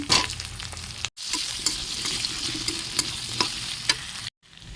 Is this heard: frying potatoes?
yes